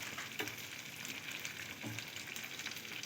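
Masala idli pieces stirred in a pan over a high gas flame, giving a steady sizzle broken by occasional scraping stirs with no talking.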